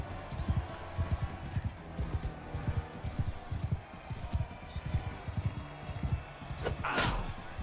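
Horse hooves thud in a rapid, uneven galloping rhythm during a medieval battle in the video game Bannerlord, steady throughout with a brief sharp clash near the end.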